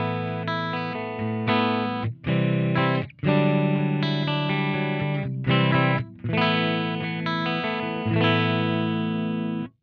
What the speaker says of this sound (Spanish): El canal limpio suena así.